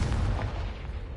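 A Confringo blasting spell in Hogwarts Legacy, a dense, booming, explosion-like blast with heavy low rumble that fills the whole moment and fades slightly toward the end.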